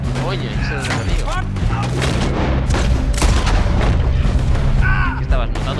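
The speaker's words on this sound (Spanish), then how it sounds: "Disparos en la espalda." Loud, booming gunfire and explosions in a chaotic game battle, with voices talking over the continuous barrage.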